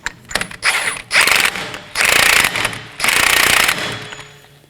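A ratchet snugs down the front axle nut on a 2018-2024 Chevrolet Equinox, with rapid clicking bursts in three or four close, loud strokes separated by short pauses.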